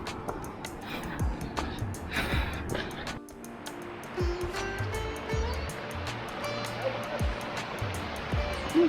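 Rushing water from a waterfall along a mountain forest trekking trail, a steady broad wash running throughout, with voices talking over it and occasional knocks nearby.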